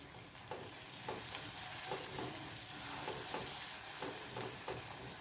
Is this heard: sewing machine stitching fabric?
no